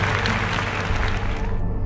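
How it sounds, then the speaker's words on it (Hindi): Dense applause from an audience at a Bible quiz competition, loud and steady throughout, with a low hum underneath. "जोरदार तालियां"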